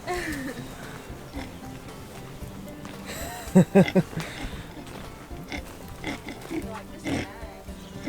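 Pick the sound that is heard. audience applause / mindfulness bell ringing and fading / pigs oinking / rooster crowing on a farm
pigs oinking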